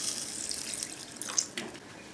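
A thin trickle of water pours into a pan while cooking a stingray curry, soft and fairly quiet with a couple of brief splashy surges.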